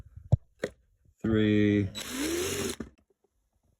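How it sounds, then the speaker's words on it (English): Power drill boring out small rivets on a Warn 8274 winch solenoid: a short high-pitched whine of just under a second, then a longer grinding bite into metal lasting about a second, both close and loud after a few faint clicks. "Drill out these 4 little rivets."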